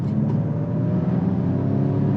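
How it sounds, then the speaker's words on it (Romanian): A Ford Mustang Mach-E GT electric car accelerating produces a steady low road and motor hum with a faint rising whine, heard from inside the cabin, continuous and even. "Deci efectiv îmi e rău de cum accelerează mașina asta."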